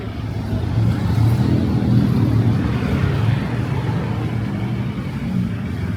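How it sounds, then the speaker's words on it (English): Busy street traffic in Sukhumvit, Bangkok: a dense, steady roar of engines and tyres with a continuous low rumble, fairly loud and unbroken, with no clear voices. "Let me show you the traffic here, it's crazy."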